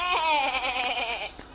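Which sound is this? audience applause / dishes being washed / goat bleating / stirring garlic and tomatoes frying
goat bleating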